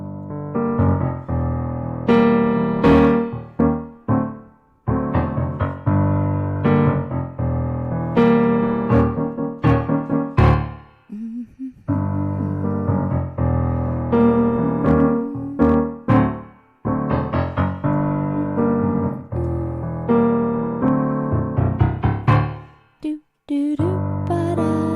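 Two players perform a piano duet, playing the opening of a Christmas piece. The music is dense and continuous with full chords and running lines, briefly thinning and pausing around the middle and near the end, with no voices.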